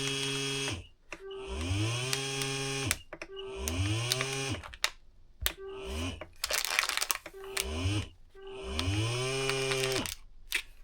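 A Bonsenkitchen VS2100 vacuum sealer draws air from a bag of cheese. The pump's whine climbs in pitch through about four repeating cycles, mixed with plastic crinkling and brief clicks, close and fairly quiet.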